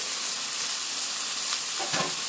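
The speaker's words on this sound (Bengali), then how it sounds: "এবার নেড়ে নেব।" Fish and eggplant curry sizzles in hot oil in a pan as it is stirred, a steady close frying hiss with a brief scraping swirl near the end.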